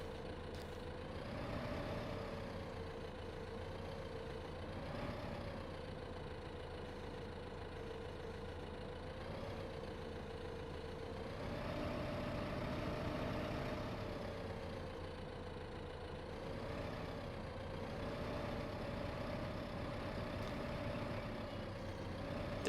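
A tractor engine in Farming Simulator 15 runs continuously, a steady mid-pitched drone that rises and falls gently as it revs, with no talk over it.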